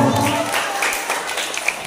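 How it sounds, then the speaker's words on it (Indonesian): A school audience at a closing ceremony with award presentations gives a short round of applause, a brief patter of clapping that trails off under faint voices. "Oke, tepuk tangan untuk Eko."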